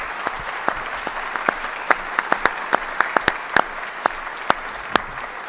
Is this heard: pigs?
no